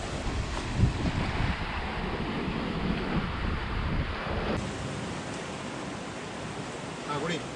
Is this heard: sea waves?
yes